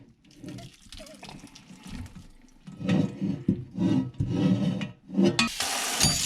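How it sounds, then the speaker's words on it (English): Grease poured off browned stew meat for chili, heard as splashing, running liquid in bursts over a sink, with clattering and rubbing of a pan or strainer between pours. "we're gonna add that and drain it. We're gonna drain that."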